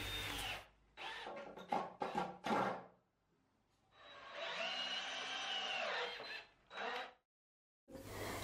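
A power drill driving screws through wooden battens into a base section propped on bricks, a few short whirring bursts then one long steady run, fairly close with pauses between.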